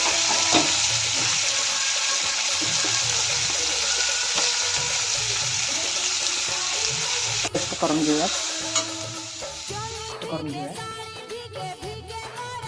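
Garlic, ginger, onion, tomato and dry coconut roasting in a pan for shev bhaji, a continuous dry sizzle with stirring scrapes that fades toward the end, where someone briefly speaks.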